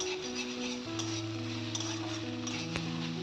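Soybean chunks fry in mustard oil in a wok, giving a steady close sizzle with occasional stirring clinks and scrapes, no voices.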